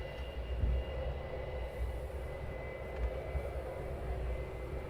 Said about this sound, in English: we have a Bizjet taxiing out as well